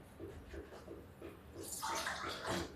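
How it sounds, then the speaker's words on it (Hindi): Water drips from a hand onto methi mung badi, soft irregular patters followed by a louder wet splashing, close and fairly quiet. "मैंने थोड़ा सा पानी लिया है, हाथ में लगाया है ऐसे, और ये देखिए, ये बढ़िया ऐसे ऐसे टपका दिया है।"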